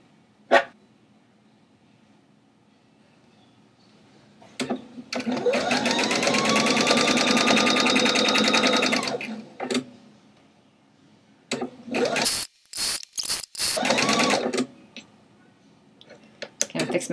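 A sewing machine runs in a steady burst of rapid, close stitching while refashioning a skirt, followed by several shorter stop-start runs, with quiet handling sounds between.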